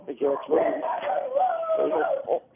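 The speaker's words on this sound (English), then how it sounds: "Those dogs are frightening me." Dogs nearby let out a run of yipping, whining barks mixed with voices, loud and close, with the cries rising and falling.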